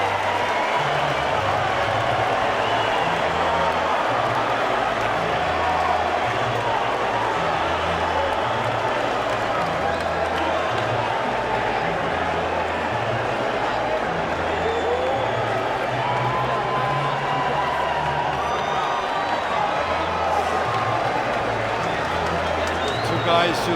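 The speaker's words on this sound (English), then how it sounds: "They get a nice, appreciative round of applause." A boxing arena crowd gives a steady, appreciative round of applause after the final bell, a diffuse wash of clapping and murmur under continuous commentary.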